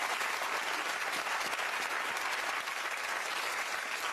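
Sustained, loud studio audience applause on a daytime talk show, dense and steady from start to end, with no talking over it.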